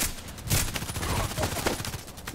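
Gunfire from other players in a shooting video game featuring a Glock 18, heard as a dense, continuous burst of rapid shots and echoing cracks, loud and sustained throughout.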